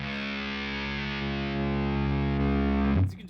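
A sustained, buzzy electric guitar chord from a single-coil guitar with heavy transistor fuzz distortion rings steadily, swelling slightly before it is abruptly cut off near the end.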